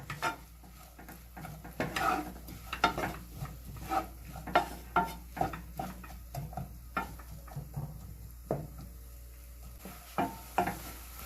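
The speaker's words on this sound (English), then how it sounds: "We are going to stir this occasionally until it becomes translucent." Grated garlic stirred in a pan gives a steady run of scraping clinks from the utensil against the metal, repeating about every half second, close and fairly quiet over a faint sizzle.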